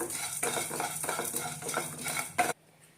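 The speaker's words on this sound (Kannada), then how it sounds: "ಈಗ ಸಾಸಿವೆ ಮತ್ತು ಮೆಂತ್ಯನ ಹಾಕೋಣ ಇದನ್ನು ಕೂಡ ಸ್ವಲ್ಪ ಫ್ರೈ ಮಾಡೋಣ" Mustard seeds and fenugreek fry in a little oil for temple-style puliyogare, with close, busy stirring and clinking of a spoon against the pan, then abruptly cutting to near silence.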